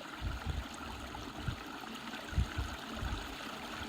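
A small stream flows steadily in the open air, its soft continuous trickle and gurgle broken by a few low thumps, heard alone with no voices.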